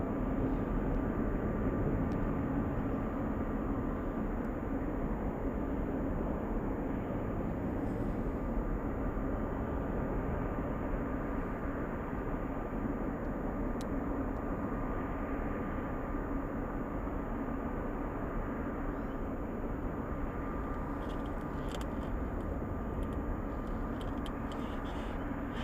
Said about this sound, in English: 747 literally flying over the entire city right now